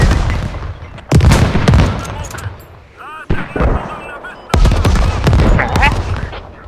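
Rifle fire in the Squad military shooter game, loud shots and rapid bursts cracking in clusters with pauses between, while people talk over the radio-style chatter throughout.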